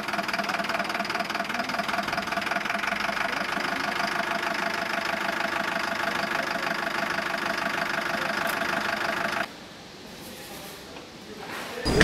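A 4.2-litre diesel truck engine idles with a steady knocking rumble for most of the clip, then drops suddenly to a quieter hum near the end.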